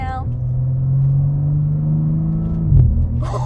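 A 2022 BMW CSL engine rumbles steadily at a low pitch while driving, then briefly rises and drops as if shifting, with a voice starting near the end.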